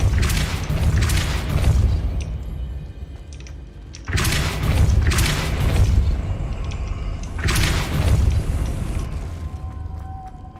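The Depulso force spell is cast in the Hogwarts Legacy video game, giving three heavy booming blasts a few seconds apart, each with a bright crackling burst and a rumbling tail.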